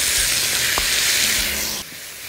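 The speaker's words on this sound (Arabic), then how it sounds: "هحط بقى هنا على معلقه الزيت اللحمه" Beef sizzles loudly in hot oil in a frying pan, a dense steady crackling hiss close by that drops slightly in level near the end.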